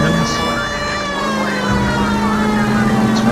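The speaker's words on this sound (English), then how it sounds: "Do they not hear the sirens?" Police car sirens wail continuously in L.A. Noire, loud and near, over engine rumble and game traffic noise, with a voice speaking across them.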